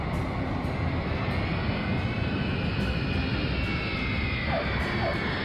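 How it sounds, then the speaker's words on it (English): A cartoon airplane comes in to land with its landing gear lowered, a loud continuous jet-engine roar with a steady whine that slowly shifts in pitch, close and unbroken, with no voices. "The airplane just lowered the landing gear."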